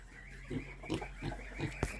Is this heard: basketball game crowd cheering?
no